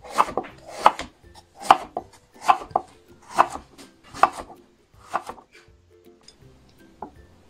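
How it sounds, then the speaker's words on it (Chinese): Knife chopping through peeled pumpkin on a cutting board: a steady run of about ten crisp, close thuds in a regular rhythm, trailing off near the end, with no voices. "去皮，切片。"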